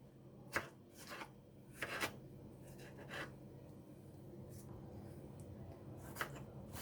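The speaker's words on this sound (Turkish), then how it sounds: "Küp küp doğrayalım." Quiet, irregular knife taps on a cutting board, spaced clusters of short chopping strokes dicing vegetables into cubes over a low background hum.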